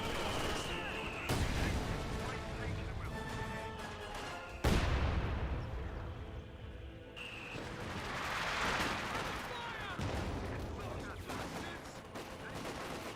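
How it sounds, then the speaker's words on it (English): Company of Heroes 2 battle with mortar impacts and gunfire, heavy booms and rolling bursts of fire at varying distance, a commentator talking over the action. "A single mortar does connect."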